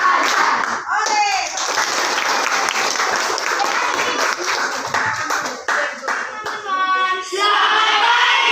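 Children in a classroom clap in a counted routine, bursts of quick hand claps alternating with their chanted group call-and-response voices.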